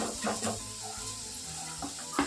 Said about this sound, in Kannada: ಈಗ ಅದನ್ನು ಕೂಡ ನೀಟಾಗಿ ಫ್ರೈ ಮಾಡ್ಕೊತಾ ಇದ್ದೀನಿ